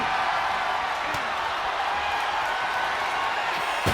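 Steady roar of an ECW wrestling crowd during a women's match, a continuous broad wash of cheering and noise at constant loudness with a few faint thuds.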